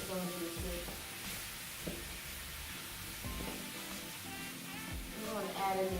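Vegetables for homemade pesto pizza cook down in their own juices in a pan with no added fat, a soft, steady hiss of gentle simmering and sizzling with occasional light stirring, while a person talks over it.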